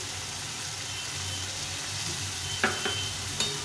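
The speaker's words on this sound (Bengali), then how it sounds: "এখন এই মশলাটা দিয়ে দেবো যেটা ভিজিয়ে রেখেছিলাম জিরে গুঁড়ো লঙ্কা গুঁড়ো আর হলুদ গুঁড়ো" A paste of soaked cumin, chili and turmeric powders sizzles steadily in a hot pan for a vegetable soya bean dish, a close, even hiss with a couple of brief stirring knocks near the end.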